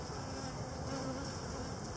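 Honey bees buzzing in a dense, continuous drone during a hive inspection, with a close, steady hum and no talk.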